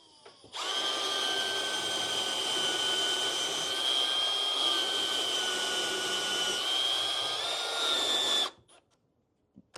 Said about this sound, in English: I'm going to be using my Milwaukee drill